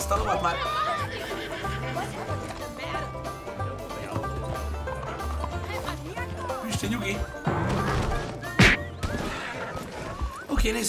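Horse whinnying in the video game Red Dead Redemption 2, a short sharp neigh near the end, set against busy in-game music, hoof and crash noises and someone talking throughout.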